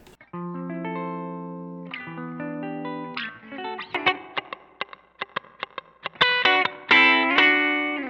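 Electric guitar played through a ZOOM MS-50G multistomp with noise reduction, a Fender combo amp model and spring reverb: sustained chords give way to short picked stabs and bright strummed chords, each ringing out with a reverb tail.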